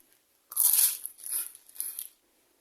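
Crunchy fried samosa (zambusah) bitten and chewed close up, a loud crisp crunch followed by two softer rounds of chewing crunches, eaten as a cold-weather snack with coffee, no talking.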